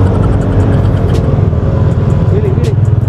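Road traffic in a jam heard from a rider on a motorcycle, with steady low engine rumble and idling vehicles close around, continuous throughout.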